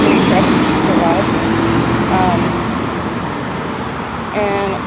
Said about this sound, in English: sorry, there's so many trucks so loud.